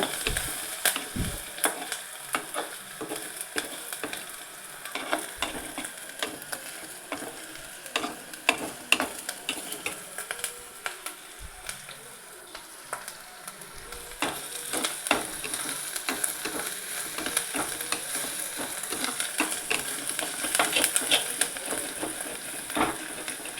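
Ginger kuzhambu stirred and scraped in a frying pan, the ginger catching slightly on the base: a steady sizzle under repeated scraping and knocking strokes of a spoon, close and moderately loud, with no talking.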